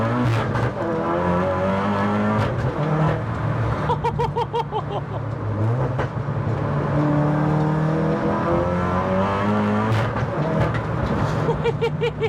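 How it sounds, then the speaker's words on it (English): VW MK7 Golf R track car accelerating hard through the gears, engine note climbing and dropping with each shift, loud and close from inside, no speech. "This car is an absolute machine."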